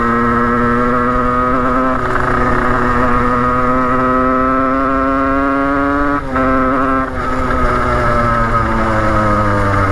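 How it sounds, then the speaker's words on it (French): A cold motorcycle with a 77cc stage 6 cast-iron kit, 28 mm carburettor and TAS6 clutch is revved to warm up, a loud close two-stroke drone holding a steady high pitch, rising slightly, with two brief dips near the end. "on va un peu la faire chauffer la moto"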